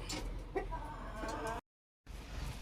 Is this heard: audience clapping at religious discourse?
no